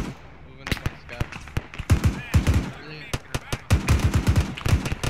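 Machine gun fire in the video game Arma 3, heard as rapid bursts of sharp, loud shots, some nearby and some more distant, crackling in uneven clusters.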